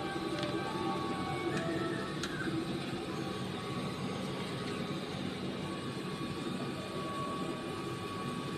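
A steady mechanical hum and whir of an ink tank printer running continuously, with faint clicks and higher tones over a broad, even background noise.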